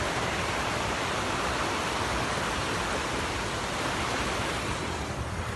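A river flowing in an outdoor natural setting, a steady broadband rush of water that stays constant and fairly loud throughout with no voices.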